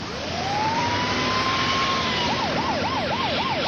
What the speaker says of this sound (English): When the ambulance left with Bill in the back